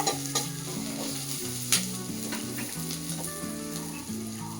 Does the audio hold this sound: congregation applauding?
no